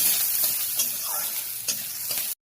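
Onions fry in hot oil in a wok, giving a steady, close sizzling hiss with a few brief stirring scrapes and clicks, and no voices.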